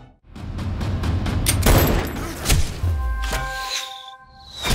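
Gunfire in a film action scene: several sharp shots and heavy thumps in quick succession amid loud effects, ending in ringing tones and a rising swell.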